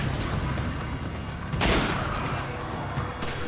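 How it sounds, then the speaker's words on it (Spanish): A sharp sniper rifle gunshot bursts out midway amid a dense, noisy background of combat rumble in Resident Evil 5. "Yo le disparo con el francotirador."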